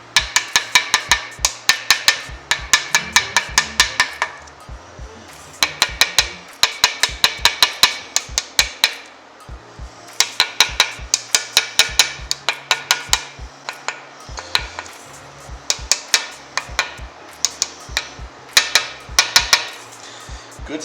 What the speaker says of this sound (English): Get a screwdriver and tap it.